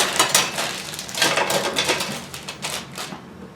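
Rummaging through a bag of accessories for a Wahl Lithium Ion Plus trimmer: close, busy plastic clicks and rattles with small knocks, coming in uneven bursts throughout.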